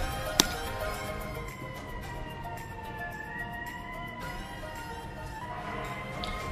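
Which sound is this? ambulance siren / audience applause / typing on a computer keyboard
ambulance siren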